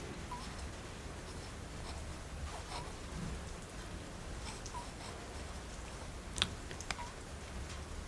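Heavy rain pours outside a cosy autumn shop, a steady soft hiss of drops with occasional louder taps and patters, fairly quiet and continuous, with no talk.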